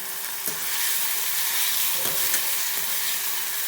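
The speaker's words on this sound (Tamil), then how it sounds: "நல்லா வதக்கிக்குங்க" Onion and tomato sautéing in a pan for a garlic-pepper stingray curry, a loud dense sizzle running throughout with a few scraping stirs and a faint steady hum behind, no voices.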